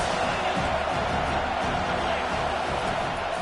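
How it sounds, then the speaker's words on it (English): A football stadium crowd roars in a dense, continuous wash of distant noise throughout, with no distinct cheers standing out. "This crowd trying to make life miserable for this offense."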